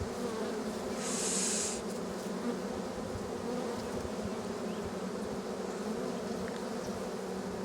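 Honeybees buzz steadily and densely around a hive entrance, a continuous close drone filling the whole stretch, with one brief louder hum near the start as a bee passes near.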